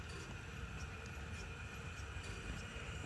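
A museum narrow-gauge railway train on the Härtsfeld line runs along, a steady broadband rumble and rolling noise with faint high squeal, continuous and fairly near, no talk.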